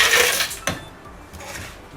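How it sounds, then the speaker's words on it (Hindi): Crushed ice tumbling into a sugared cold coffee mixture, a short gritty scrape and clatter followed by a softer rattle, close and brief. "क्रश आइस डाल दी है।"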